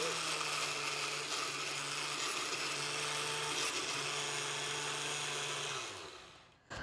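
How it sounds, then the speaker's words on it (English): A blender on medium speed grinds half a cup of walnuts with a loud, steady whirring roar and a gritty churning texture, then winds down and stops near the end. "I have half a cup of walnuts here. I'm gonna add them to the blender."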